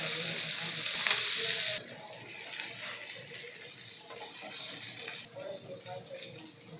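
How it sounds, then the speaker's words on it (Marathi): A pan of leafy greens (karadi bhaji) frying in hot oil on full flame, starting with a loud, bright hissing burst that drops after a couple of seconds to a steadier crackling sizzle with stirring scrapes. "याला एक पाच मिनटासाठी आपल्याला असंच फुल फ्लेमवरती फ्राय फ्राय करून घ्यायची"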